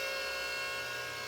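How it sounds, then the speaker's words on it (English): Steady whine of an oil scavenging pump running on a turbocharged 3.7 V6 Mustang, a continuous broadband tone with layered high-pitched harmonics, fairly close and unbroken for the whole moment. "It's an oil scavenging pump."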